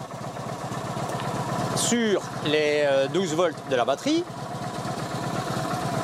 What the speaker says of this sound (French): Donc là, normalement, la moto va tourner